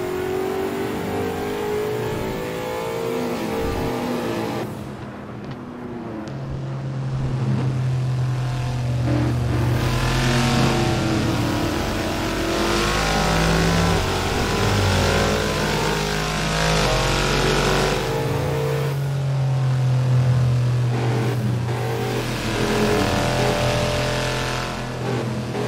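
A car engine drives continuously and loudly, revving up and down through gear changes and easing off briefly before surging again, with no talking.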